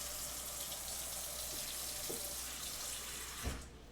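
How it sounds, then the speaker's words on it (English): Tap water runs steadily into a sink to soak wooden toothpicks, a constant broadband rush with a few faint clinks and a soft knock near the end. "So I'm going to soak them in some water."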